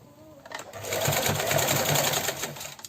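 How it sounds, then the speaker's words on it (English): A domestic sewing machine running a back stitch on fabric for homemade shorts, a close, steady whirring hum of the needle mechanism for about two seconds, starting and stopping abruptly, with a brief quiet voice just before. "We're doing a back stitch here."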